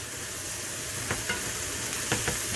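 Chorizo with onions and tomato cooks in a pan, giving a steady sizzle. A few quick spatula scrapes stand out as the mixture is stirred, close and moderately loud.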